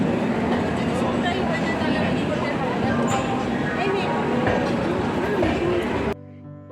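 Saraighat Express rolling along after departing Howrah, a steady close rumble and rattle of the carriage filling the whole stretch, with voices talking over it before it cuts off near the end.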